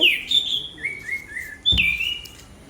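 Several birds chirp and whistle in clear, bright bursts, close by, just after rain, with short pauses between calls and no voices.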